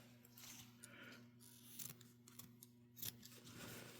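Scissors make a few quiet, crisp snips while clipping the corners of sewn fabric for a sewing machine cover, with faint handling rustle between the cuts.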